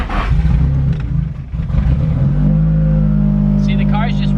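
Nissan 240SX running on E85 in the cold, started in gear so it lurches forward, with a loud, steady engine drone and someone talking over it.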